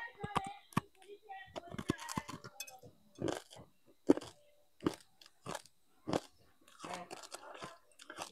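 Crunchy sweet moa made from fried rice is chewed close to the mic, with a string of separate crisp crunching bites and a little talk in between.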